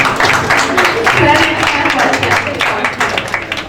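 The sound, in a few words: audience applause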